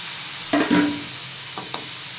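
Tomatoes sautéed in a pan for a vegetable chapati roll filling, a low sizzle with a couple of short scraping and clattering stirs, no one speaking.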